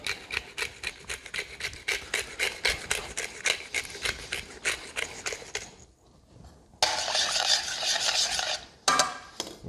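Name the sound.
seasoning sauce with salt and ground pepper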